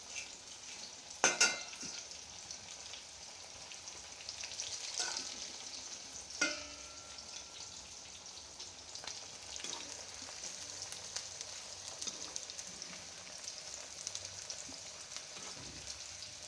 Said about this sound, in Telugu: ఇట్లా ఎర్రగా వేయించుకోవాలి అప్పుడు బాగుంటుంది